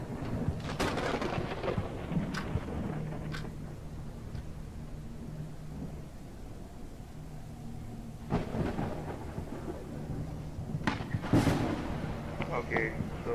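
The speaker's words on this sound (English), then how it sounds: "it's night time and it's raining like hell" Heavy rain pours at night in the Mirror Forge video game, with rolling rumbles of thunder and occasional sharp cracks rising over the steady downpour.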